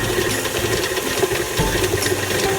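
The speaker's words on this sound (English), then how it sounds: "You're going to put the mixer back on" An electric mixer running in a bowl, beating an egg into creamed butter and sugar for oatmeal cookie dough, a steady close motor whir with slight rattle, continuous and unbroken, no talking.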